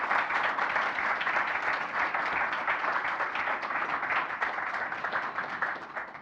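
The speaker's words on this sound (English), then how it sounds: "let's give her another round of applause" A conference audience at a Python developer event claps after a talk, a sustained, moderately loud patter of many hands that holds steady, then begins to taper slightly toward the end.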